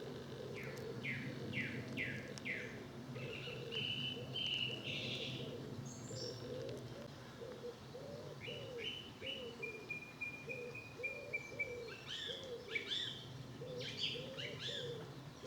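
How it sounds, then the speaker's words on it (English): A song thrush sings repeated short phrases from a countryside path beside farmland, bright and fairly near, while a dove coos softly and low rumbling wind and distant noise sit underneath. "With a lovely song thrush there for accompaniment."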